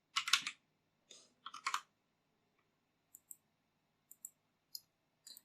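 Keys clack on a computer keyboard as a git command is typed into a terminal, a quick burst of close, crisp keystrokes followed by a few sparse, lighter clicks with pauses between them.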